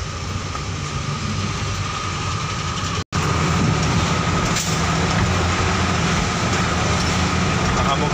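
Heavy traffic rumbles steadily on a foggy mountain road in Baguio City, with a low continuous engine drone, a brief cut partway through and the hiss of a passing vehicle.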